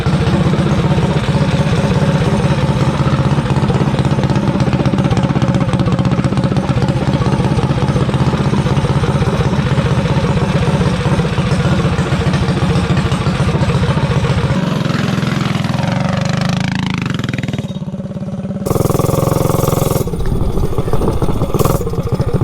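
A mini bike with a 263 engine and a new $27 cheap clutch, running continuously with a loud, buzzy small-engine drone, rising and falling in revs near the end.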